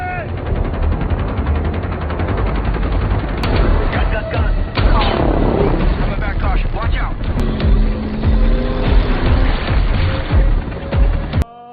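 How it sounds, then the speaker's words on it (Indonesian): Video game gunfire aimed at a police helicopter during a getaway from LAPD and FBI, with sharp bursts of shots and booms over a continuous vehicle rumble and background voices. "Setelah menembaki helikopter polisi"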